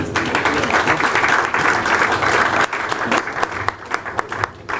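Audience at a literary reading event applauds two readers, a dense, loud wash of clapping that holds steady for several seconds before loosening into scattered claps.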